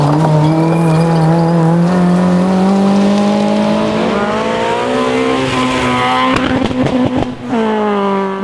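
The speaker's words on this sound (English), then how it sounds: "lements, who, co-driven by Christopher Lear, had a good run in his MG ZR." An MG ZR rally car on a stage of the Cambrian Rally, its engine loud and close with a rising pitch as it accelerates through the gears, then a brief rough patch of gravelly bursts near the end.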